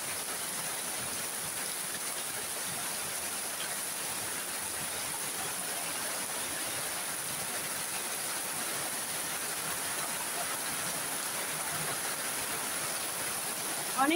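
Heavy rain pours down on a village home in Sylhet, making a dense, constant hiss of rainfall on surfaces that holds evenly for the whole stretch, close and loud, with no voices over it.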